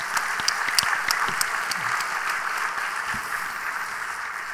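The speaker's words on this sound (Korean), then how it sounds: "박수를 한번 하십시다." Congregation applauding during a Sunday evening church service, a steady wash of clapping at moderate level with sharper individual claps standing out, sustained without pause.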